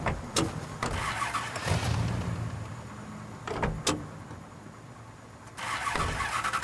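A car engine cranks and starts inside the video game Mafia 3, in the French Ward district, with a door-like clunk and a few sharp mechanical knocks over a steady low rumble.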